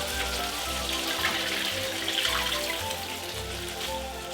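Half a litre of vegetable broth poured into a hot pan for a tuna pasta, splashing and sizzling in a steady, close, continuous hiss and bubble, alone without talk.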